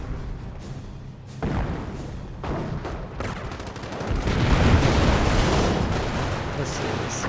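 Mortar and support-weapon fire in a World War II strategy game, a dense barrage of overlapping booms and thuds with brief gaps early on, then swelling into a loud, continuous rumble of bombardment.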